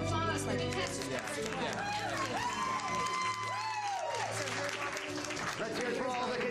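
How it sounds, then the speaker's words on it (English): An audience applauds beauty pageant contestants in a steady, sustained round of clapping and crowd noise that runs the whole stretch, with voices talking over it. "a warm round of applause for the contestants"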